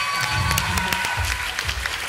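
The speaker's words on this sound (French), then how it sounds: "regardez, on peut l'applaudir. Faites du bruit pour la barman quand même." An audience at a hypnosis show in Champagnole applauds the barmaid, a dense burst of clapping from a crowd that carries steadily throughout, with faint voices mixed in.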